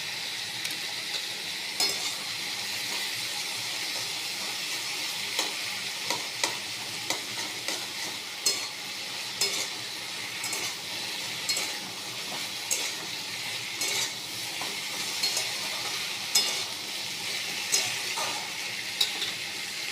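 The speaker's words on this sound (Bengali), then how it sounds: "আদাটা কষুক মশলাটা" Ginger paste and spices fry in an oiled pan, giving a steady close hiss that runs the whole way through. Light repeated scrapes of stirring sit on top of the hiss. No voices.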